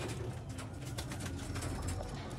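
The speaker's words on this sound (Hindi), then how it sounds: "उड़ने वाले कबूतर" Young Teddy pigeons coo softly and repeatedly against a steady background hum, the low rolling calls overlapping throughout.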